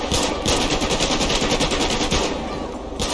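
Automatic machine gun fire in the GTA 5 video game, rapid sustained bursts of shots rattling loudly and close for the whole stretch, with only a short gap near the end.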